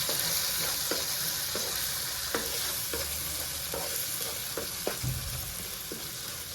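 Gobi tomato curry sizzling and simmering in a pan, a steady bright frying hiss with regular soft stirring scrapes of a utensil, close and continuous with no voices.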